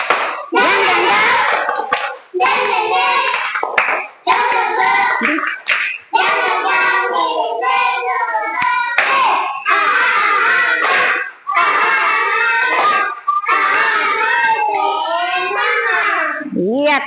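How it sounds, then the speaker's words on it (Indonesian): Children in a classroom perform a rhythmic spirit clap routine, with bursts of sharp clapping and chanted syllables that repeat in short groups, loud and close, and an adult voice joining. "Tepuk semangat."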